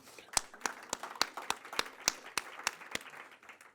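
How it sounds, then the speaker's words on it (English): A single person claps in a panel session, about a dozen sharp, evenly spaced claps close by, with soft murmuring and talk in the background. "Shall we give him a round of applause?"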